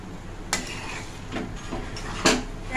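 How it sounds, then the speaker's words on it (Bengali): Peas stirred and fried into a spice paste in a pan for Bengali niramish ghugni, with a few sharp clinks and scrapes of a utensil against the pan over a faint background hiss, no talking. "ওই কষানো মশলাটার সাথে আরেকবার করে কষিয়ে নেব"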